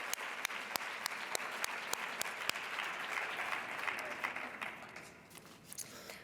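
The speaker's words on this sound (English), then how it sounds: "let's give a warm round of applause to Caroline Behringer" A seated audience at a nutrition and lifestyle talk gives steady, fairly soft applause, with distinct individual claps standing out over the continuous patter before it thins toward the end.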